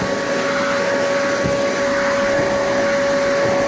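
A Sears Craftsman 5 gallon, 3 peak HP wet/dry shop vacuum runs continuously and loudly up close, a steady whining roar with a constant motor tone throughout.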